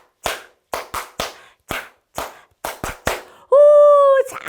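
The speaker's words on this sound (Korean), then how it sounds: "박수 소리!" Sharp, irregular hand claps, about a dozen, crack out in a loose burst at a toddler church service, followed by a sustained tonal buzzer-like note.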